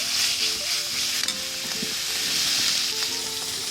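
Oil sizzles steadily in a pan with a chicken cube added while noodles with keema are being made, a loud continuous hiss with a few faint scrapes and clinks, no talking.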